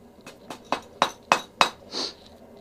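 A backyard blacksmith hammering hot metal to a point on an anvil: six sharp ringing strikes at a steady, quickening rhythm, close and clear, followed by a softer scraping ring.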